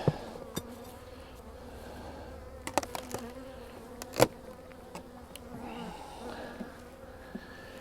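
Steady bee buzzing close by at a hive being treated for mites with Hop Guard III, with scattered sharp knocks and taps cutting through the hum.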